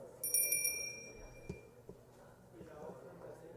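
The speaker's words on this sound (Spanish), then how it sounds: "Un poquito de silencio. La campana aquí." A bell is rung during a legislative session to call for silence, a few quick bright rings up front over the murmur and chatter of the chamber.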